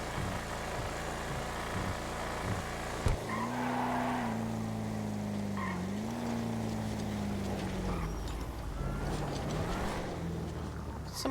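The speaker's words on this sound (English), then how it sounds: "Someone dragging a car" In a roleplay driving video game, a car is dragged along and skids with a sustained engine drone and a gliding, whining tire tone. It continues for several seconds at moderate level, with faint talk in the background.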